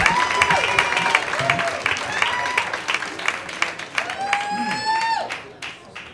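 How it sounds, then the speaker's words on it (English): Audience applause at a Moth StorySlam storytelling event, a steady crowd clapping for a storyteller while a tonal sweeping sound rises and falls over it several times. "And keep that applause going for Jesse."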